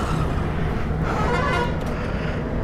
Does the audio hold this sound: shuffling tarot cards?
no